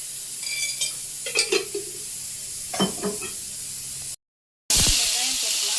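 Onion and capsicum sizzling in hot oil with intermittent stirring scrapes, a steady frying hiss throughout, a brief dropout, then a louder sizzle.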